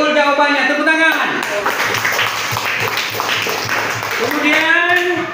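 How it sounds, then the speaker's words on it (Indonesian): Students clapping in a classroom, a burst of quick applause that runs through the middle of the moment, with voices talking over it at the start and end. "Tepuk tangan."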